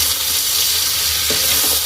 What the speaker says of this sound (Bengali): এখন বেশ ভালো করে একটু ভাজার মতো করে নিতে হবে, যাতে ভাজা হয়ে যায়